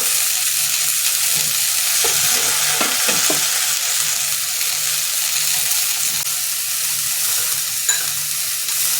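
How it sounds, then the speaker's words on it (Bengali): Spring onion greens frying in a pan, a strong continuous sizzle with a few soft stirring scrapes near the start, close and without speech. "এবার আমি পেঁয়াজ পাতাগুলো এর মধ্যে দিয়ে দিচ্ছি, দিয়ে একটু ভালো করে ভেজে নেব।"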